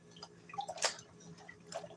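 Dishwater drains and drips in a sink, a few sparse, soft drops and small gurgles spaced irregularly, one brighter splash standing out in the middle, quiet and close.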